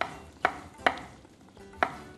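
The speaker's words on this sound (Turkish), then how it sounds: "Diğer domatesimizi aynı işlemle keselim." A knife chops a tomato on a cutting board in a Turkish kitchen, three crisp, separate cuts spaced irregularly over a quiet background, with no talking.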